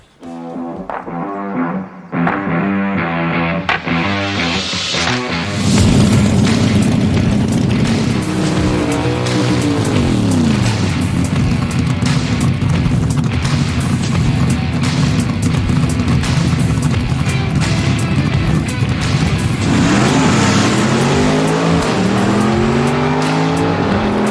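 Drag race pitting a supercharged Hemi against a naturally aspirated small block: loud, roaring engines rev and accelerate hard, with a rising, sweeping engine note and tire squeal, continuous and close.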